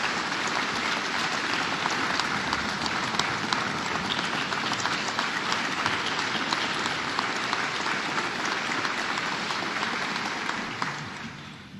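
Sustained applause from an audience at a state funding announcement in Canandaigua, a dense, steady wash of many hands clapping for around twelve seconds before starting to thin at the end.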